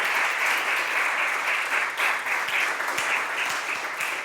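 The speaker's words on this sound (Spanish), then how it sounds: "Denle un aplauso de alabanza" Congregation at a church service claps in praise, a steady dense wash of many hands filling the room at moderate volume with no talk over it.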